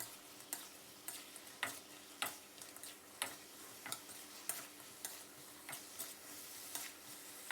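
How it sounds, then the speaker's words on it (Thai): Pork belly being stir-fried in a pan with shallots: a steady low sizzle with regular scraping clicks from a spatula tossing the meat, fairly quiet and without speech. "แล้วก็เราผัดคลุกเขาให้เข้ากันนะครับ"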